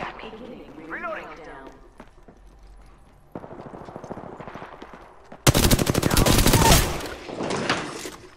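Apex Legends gunfire: quieter in-game sounds and voice-like bits give way to a sudden loud burst of rapid automatic shots that rattles on for a few seconds and then eases off.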